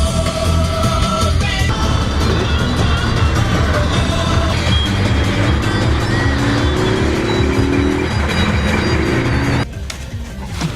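A Nissan R32 engine runs loud and steady from inside the moving car, a constant drone with rising and shifting pitch across the drive and a brief drop near the end.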